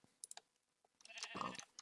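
Sheep bleating in a farming video game while the flock is being sheared, a short burst of bleats rising near the end amid light clicks, with no one talking.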